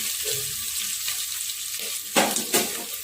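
Onions fry in a pan and are stirred with a ladle until they brown. A steady close sizzle runs throughout, and two sharp scraping strokes of the ladle come near the end.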